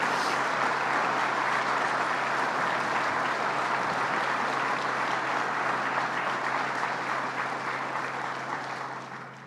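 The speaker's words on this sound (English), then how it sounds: "Let's give them a round of applause" An audience at a jobs announcement event applauds steadily, a broad, moderately distant wash of clapping that holds even before tapering off at the end, with a low steady hum underneath.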